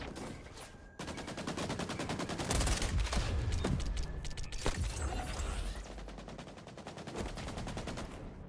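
Rapid automatic AK rifle fire in the online shooter XDefiant, sustained bursts of sharp cracks with a few heavier blasts mixed in, loud and close.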